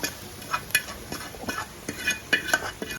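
Drumstick leaf fry with fresh coconut is stirred in a pan, with repeated close scraping and light metallic clinks over a soft sizzle, no talk.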